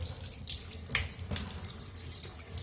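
Tap water runs close by while something is washed under it, an uneven splashing flow with several brief louder bursts as the stream hits the item.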